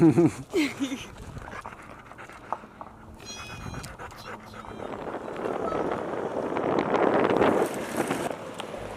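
A dog pants steadily inside a moving car, close to the mic, with wind and road rush rising underneath and a brief human voice near the start.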